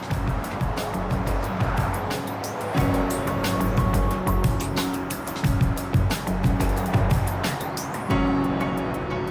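Fast-moving road traffic rushes past close by, a dense, continuous roar of cars with repeated sharp passing swishes and rumbles, loud and without a break.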